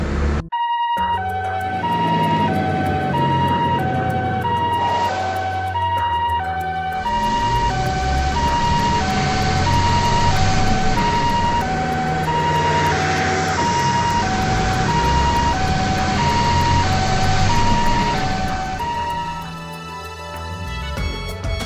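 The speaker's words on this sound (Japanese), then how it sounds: "病院に向かう救急車か？" Ambulance sirens in the video game The Legend of Heroes: Trails to Azure wail in a repeating two-tone pattern over rumbling traffic, staying loud and continuous throughout.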